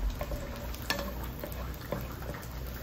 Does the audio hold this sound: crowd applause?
no